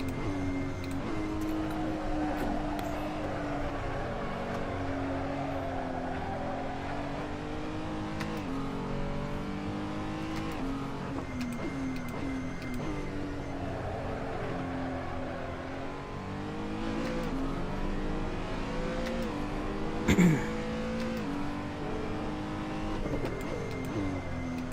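A race car engine in the sim racing game Assetto Corsa roars steadily on track, rising and falling in pitch through gear changes and throttle shifts, with a brief sharp knock near the end.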